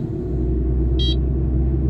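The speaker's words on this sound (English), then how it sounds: "See, the RPMs are now ramping up" A Kubota R630 wheel loader's diesel engine rumbles loudly and steadily during DPF regeneration, building slightly in the first moment, with a short electronic beep sounding once over the drone.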